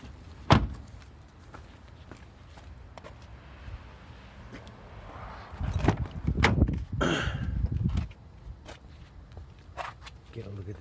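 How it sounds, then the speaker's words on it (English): Rear door of a 2007 Ford Edge SEL opened nearby: a sharp latch click, then scattered clunks, rustles and footsteps, with a louder thud of the door swinging midway. "Get a look at this driver's side rear door."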